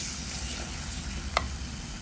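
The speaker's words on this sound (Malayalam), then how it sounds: "2 കപ്പ് വെള്ളം ഒഴിച്ചിട്ടുണ്ട്." Water poured into hot masala in a pan gives a steady, close sizzle throughout, with one brief sharp clink near the end.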